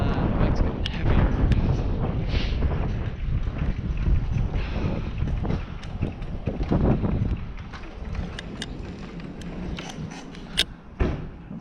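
Wind buffets the microphone while someone rides a bike into a headwind on a street, producing a loud, constant rumbling roar with occasional knocks and rattles.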